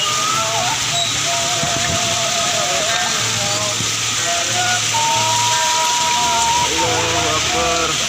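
Strong wind and heavy hail batter a roof of asbestos sheeting in Kampung Leuwisadeng, Bogor, a loud, continuous roar and clatter that never lets up, with voices talking through it.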